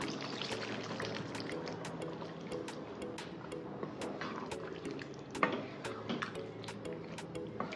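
Soft clinks and taps of a spoon against a pot as cooked, roasted mochai (field bean) lentils are added to curry, irregular ticking sounds over a low background hum.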